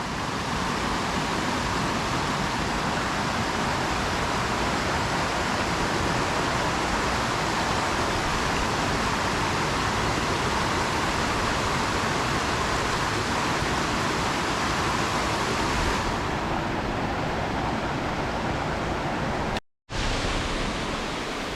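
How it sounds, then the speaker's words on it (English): A roaring creek and waterfall in the Great Smoky Mountains give a dense, steady rush of water that fills the whole span, loud and unbroken apart from a brief drop near the end. "I love the sound of the roaring creek here"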